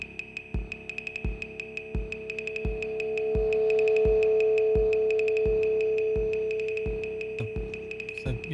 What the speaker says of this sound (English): the control that you've all been waiting for, feedback, where we can send some of the output back through the spring